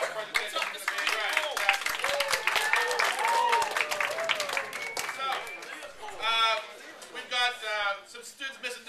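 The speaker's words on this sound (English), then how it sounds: "thunderous applause for Mr. French" Students in a classroom clap and cheer for a teacher, with scattered hand claps mixed into lively overlapping chatter and shouting voices that dominate throughout.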